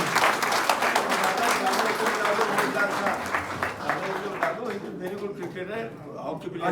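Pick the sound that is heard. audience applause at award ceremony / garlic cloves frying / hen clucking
audience applause at award ceremony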